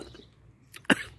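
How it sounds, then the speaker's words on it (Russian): A single short cough bursts out after someone eats a very sour early cherry outdoors, one sharp close hack rising from quiet background murmur. "даже до кашля"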